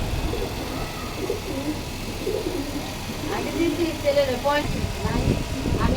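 Pigeons coo and call on a rooftop farm holding around three hundred birds, with a fan kept running for them; low, rolling coos repeat over steady background noise, and a voice talks throughout.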